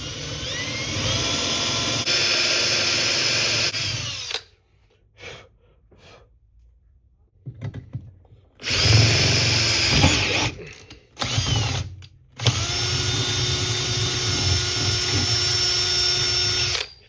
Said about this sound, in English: Let's just drill through the freaking bolt.